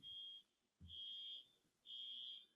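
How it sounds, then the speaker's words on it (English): A fire alarm sounds outside an apartment, heard from indoors as three faint, steady high-pitched buzzing tones separated by short pauses, with a dull thump near the second tone. "Yeah, the fire alarm."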